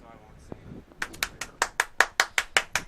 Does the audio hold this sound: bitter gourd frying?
no